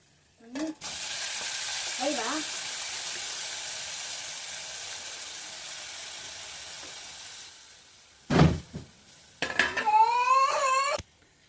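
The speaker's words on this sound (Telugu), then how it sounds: "బోటిని దానిలో వేస్తున్నాను" Cleaned goat tripe dropped into a hot pan, bursting into a loud sizzle that holds for several seconds and fades, followed by a few sharp clatters of utensils near the end.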